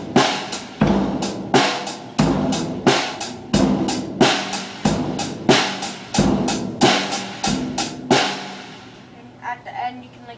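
A beginner drum beat on kit with hi-hat, snare and bass drum plays alone in a steady, loud, evenly repeating pattern of sharp hits for about eight seconds, then stops and the cymbal decays into near silence.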